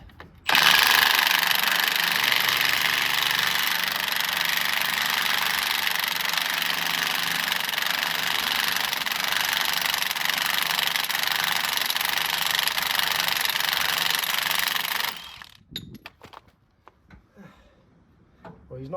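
An impact gun rattles hard on a stubborn nut while splitting a tractor in half, a loud sustained hammering burst of about fifteen seconds, then it stops and faint clanks and quiet workshop sounds follow.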